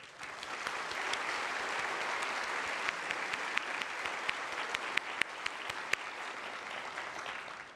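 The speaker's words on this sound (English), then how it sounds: "So I want to give a round of applause to Johnson here." An audience at a NASA Johnson Space Center event applauds steadily throughout, a dense wash of clapping with a few sharper individual claps standing out, moderately loud and continuous with no talk over it.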